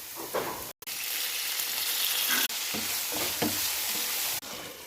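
Ginger paste sizzles loudly in a hot pan for a broad bean and tomato curry, a steady close frying hiss broken by brief gaps and faint stirring scrapes.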